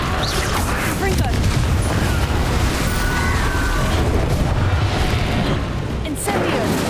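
Confringo blasting-curse explosions fill a Hogwarts Legacy battle as loud booming blasts over a continuous wash of dense combat noise, with no break across the stretch.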